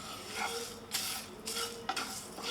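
Dry spices stirred with a spoon into roasted grated coconut in a pan with the gas off, soft scraping and gritty swishing strokes, close and continuous, with a few brighter scrapes against the pan.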